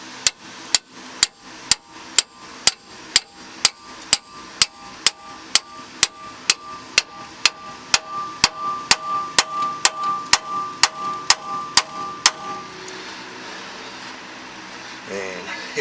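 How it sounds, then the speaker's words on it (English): A hammer strikes a ball joint fork about two dozen times in a steady rhythm to separate a car's ball joint. Sharp metallic clanks ring close by, then a duller knocking takes over near the end. "I'm going to go ahead and give this one a couple of whacks"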